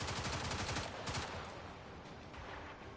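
Rapid video game gunfire in Warframe, fast repeated automatic shots in a loud burst, then a lighter scatter of further shots as the volume fades somewhat, with no voice over it.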